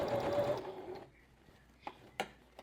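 A sewing machine stitches a sleeve, running in a short whirring burst at the start and then stopping, with a few faint clicks and taps afterward.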